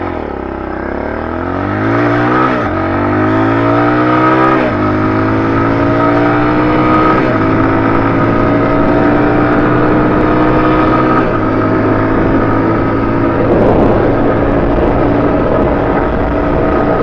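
A stock 2021 Tao TBR7 dual sport motorcycle with a 17.2 sprocket accelerates hard from a standstill, its engine rising in pitch through several gear shifts in a loud, close, continuous run with no talking.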